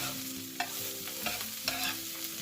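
Shrimp fried rice with egg is stir-fried in a pan, a quiet continuous sizzle with a few spatula scrapes and taps as everything gets mixed together.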